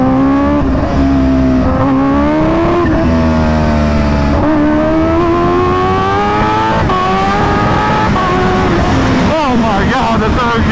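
A Kawasaki Ninja H2R motorcycle's engine roars loud and close, revving hard with pitch climbing and dropping through gear changes and downshifts, the tone sweeping rapidly near the end, with voices talking over it.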